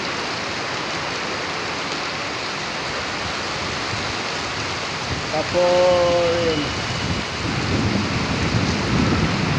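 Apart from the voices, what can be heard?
heavy rain, wind and thunderstorm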